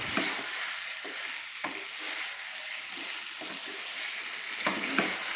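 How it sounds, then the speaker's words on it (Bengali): Fried potato, kohlrabi and egg are stirred together in a pan, with a steady loud sizzle of frying and a few scraping strokes of the spatula against the pan at irregular intervals, with no talking. "আমি একটু ভালো করে সবগুলো একসঙ্গে নেড়ে নিচ্ছি।"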